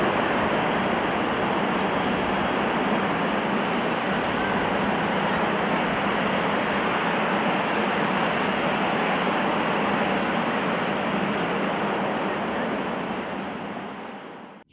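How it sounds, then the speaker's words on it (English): A Lufthansa Airbus A340-300 makes a high-speed emergency landing with its flaps stuck: a loud, steady broadband roar that holds for about fourteen seconds, then fades quickly at the end. "Lufthansa Airbus A340-300 conducts a high-speed emergency landing with flaps stuck."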